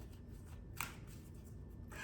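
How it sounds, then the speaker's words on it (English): A deck of oracle cards is shuffled close by, a quick riffling burst midway and another starting at the end, over a quiet room background. "Reshuffle."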